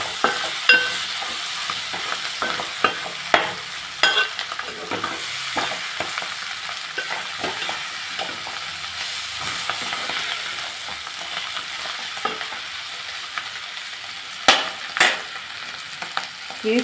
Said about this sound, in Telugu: మామూలు తాలింపు వేసి